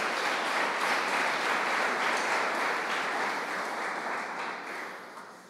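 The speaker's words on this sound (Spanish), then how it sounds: "Denle un aplauso al Señor entonces" A church congregation applauds in a sustained wash of clapping that holds steady, then thins and fades toward the end.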